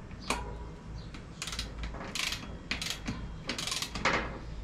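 A torque wrench tightens bolts during assembly of a Haro 1.2 Steel Reserve steel dirt jumper bike, giving a series of close ratcheting clicks and metallic ticks in irregular bursts over a low background hum.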